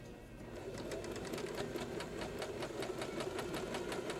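A sewing machine stitching a strip of printed brown fabric onto a patchwork table runner, running steadily and fairly quietly with a rapid, even mechanical rhythm and no talking.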